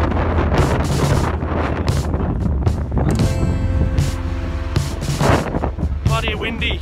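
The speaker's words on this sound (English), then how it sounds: "Bloody fucking windy in Geelong, eh?" Strong wind in Geelong buffets the microphone in heavy, continuous low rumbling gusts, with a steadier whooshing layer running underneath throughout.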